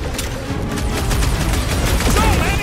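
Rapid bursts of gunfire and impacts crackle through a chaotic combat scene in Marvel's Guardians of the Galaxy, loud and dense, with voices shouting over the shooting.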